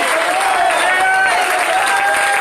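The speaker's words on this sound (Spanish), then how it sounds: "fuerte ese aplauso y diga, ¡gloria a Dios!" A church congregation applauds during a sermon, a dense, loud, continuous roar of clapping with a faint sustained musical tone running underneath throughout.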